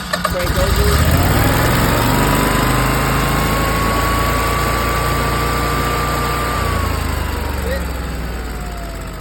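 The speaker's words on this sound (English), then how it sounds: "just press manual button there. Let it just crank over." A Generac generator engine cranks over and settles into a steady, loud running drone with a rising then falling whine, continuous throughout, with people talking at times.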